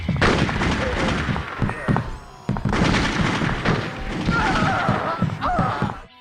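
Gunfire in a first-person shooter video game comes as dense bursts of shots and thuds, loud and near, with explosive crashes and clattering effects over a busy game soundtrack.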